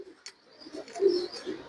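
Teddy pigeons coo softly and repeatedly close by, a low rounded murmuring with a short sharp call near the start, with no talking over it.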